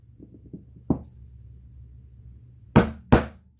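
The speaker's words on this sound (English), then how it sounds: "Just tap, tap, tapping away." A few light taps, then two sharp louder knocks of a chisel striking wood, close and isolated against a quiet background.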